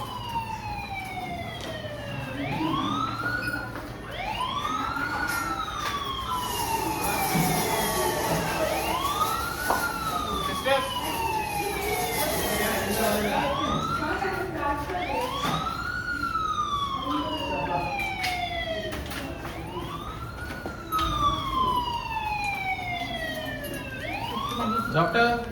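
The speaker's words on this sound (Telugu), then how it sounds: "ఇంకా అంబులెన్స్ వస్తున్నట్టున్నది" An ambulance siren approaching a hospital during a mock emergency drill wails in steady rising-and-falling sweeps, loud and continuous, with road traffic rumble beneath and voices talking.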